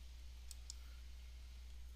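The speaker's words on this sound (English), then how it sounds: "So I'm clicking on Android," Two quick, faint computer mouse clicks in a quiet room during Unity VR game development, about a fifth of a second apart, over a low steady hum.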